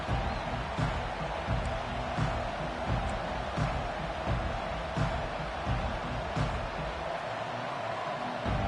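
A dense, steady roar of a large American football stadium crowd fills the whole stretch, with occasional brief swells and sharp peaks rising above the constant din.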